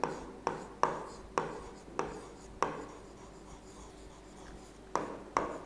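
A pen or marker writes an equation by hand, giving a series of sharp taps and short scratchy strokes close by, spaced irregularly with a lull in the middle.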